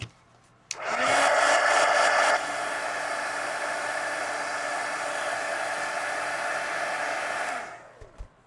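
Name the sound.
hair dryer drying a mixed media collage card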